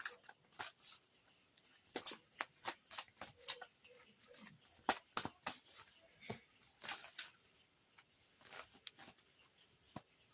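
Oracle cards are shuffled in quick irregular bursts of crisp riffling and snapping, close and fairly faint, with no talk.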